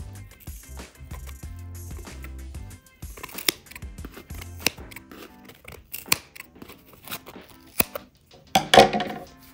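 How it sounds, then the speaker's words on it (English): Scissors snip through wrapped yarn around the edges of a tied pom-pom, making a series of crisp, close cuts at an uneven pace with soft handling rustles between them. "Once it's tied, you'll cut the yarn along the edges."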